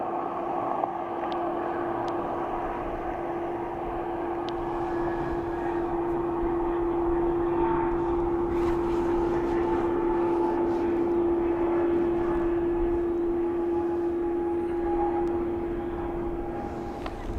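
A Ryanair airliner arriving from Athens at Dublin Airport, heard as a steady distant jet whine with a sustained tonal hum and broad engine rumble, holding level without talk.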